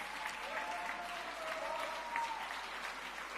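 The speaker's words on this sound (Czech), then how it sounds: "To stojí za váš obrovský potlesk a pogratulování samozřejmě od nás, ode všech" An audience applauds at a Man of the Year 2022 pageant in the Czech Republic. The clapping is continuous and rather faint, sounds distant, and a voice runs faintly under it.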